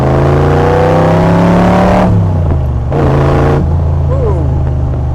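Unique Autocraft Python Cobra replica's engine, a loud close V8-style drone rising through the revs with gear-change dips, heard from on board during a test drive.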